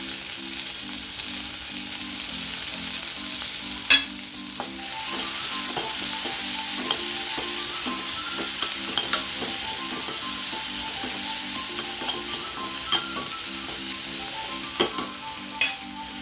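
Onion and curry leaves sizzle steadily as they fry in a pan for Maggi noodles with vegetables, with a continuous loud crackle, a few sharp clinks of stirring and no talking.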